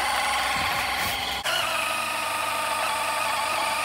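Oil pump running steadily during oil maintenance on a Land Rover Defender 90 turbo diesel, a continuous close mechanical whir with a brief dip partway through.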